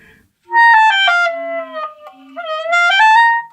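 A clarinet with a misaligned joint plays a short run of notes with a thin, unstable tone that wavers and cracks, close up and loud.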